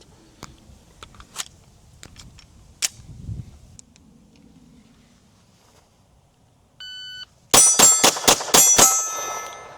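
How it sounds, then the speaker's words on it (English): A Ruger RXM pistol fires frangible ammo at steel targets. A few scattered thumps and faint clicks come first, then a short electronic beep, followed by a rapid string of loud close shots with metallic ringing. "I'm gonna shoot steel because we have this frangible ammo"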